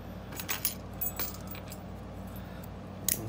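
Keys jangle faintly in a few light metallic clinks over a steady low hum, after a solid brass Ace padlock has been picked.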